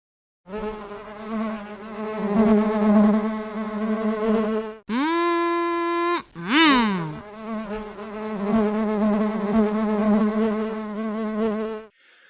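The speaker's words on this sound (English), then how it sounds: "the honeybee can be found outside, flying in front of the hive, facing the hive, darting up and down" Honey bees fly in front of the hive, a close, loud, steady insect buzz with a brief rising whine from one bee passing near.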